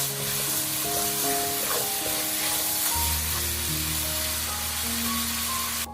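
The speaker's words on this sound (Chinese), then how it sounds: "把红椒加进来，青椒也倒下去，然后快速翻炒均匀，把青红椒炒至断生。" Pork ribs stir-fried with red and green peppers in a hot wok give a steady, loud sizzle with scraping and tossing, a continuous frying hiss throughout, no talking.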